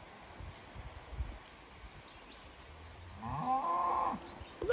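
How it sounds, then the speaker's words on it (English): A cow moos outdoors on a farm in the morning, one drawn-out call rising near the end of the stretch over rustling ambient noise, moderately loud and fairly close. "Good morning to you, moo cow."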